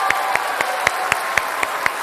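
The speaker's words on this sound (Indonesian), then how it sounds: "Sekali lagi kita kasih tepuk tangan untuk dua kandidat." An in-studio audience at a televised final debate for the Jakarta gubernatorial election claps for two candidates, a steady, fairly loud patter with a regular run of sharp, evenly spaced claps standing out on top.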